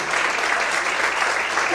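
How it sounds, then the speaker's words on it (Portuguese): A church congregation applauds in worship, a short burst of dense, continuous clapping, loud and steady with no voice over it. "Você pode aplaudir o Senhor?"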